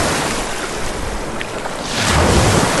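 Big waves rolling onto a sandy Lake Michigan beach with few rocks, a steady broad roar of surf with strong wind buffeting the microphone, swelling louder toward the end.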